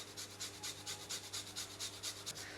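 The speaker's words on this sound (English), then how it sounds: "I'm going to grate about 1-inch piece of fresh ginger into this." Fresh ginger, about a one-inch piece, rubbed against a grater over a bowl of plain yogurt: steady rhythmic scraping strokes, roughly ten in quick succession, close and fairly soft with no talking.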